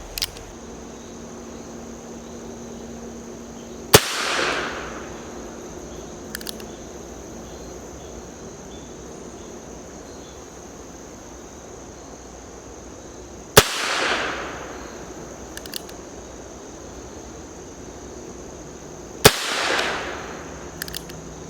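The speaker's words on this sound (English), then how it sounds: "let's give it a shot with the Heritage Rough Rider 4 3/4 inch barrel 22 long rifle" Heritage Rough Rider .22 long rifle revolver with a 4 3/4 inch barrel fired outdoors at a distant target: three sharp, loud shots spaced several seconds apart, each trailing off briefly, over a steady insect drone with no talking.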